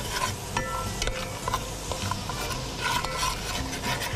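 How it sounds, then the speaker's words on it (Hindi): Coriander roasts in a pan while a spoon stirs it steadily, making a close, continuous scraping and rustling with a soft sizzle under it and no voices. "धनिया को भूनना है।"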